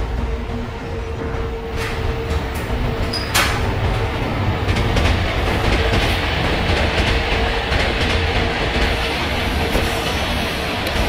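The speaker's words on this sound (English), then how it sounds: "One more train is coming on the opposite track." A passenger train rolls past on the opposite track in the MSTS train simulator, an Indian express, giving a loud continuous rumble with rhythmic clickety-clack wheel beats and sharp clanks throughout, close by and without speech.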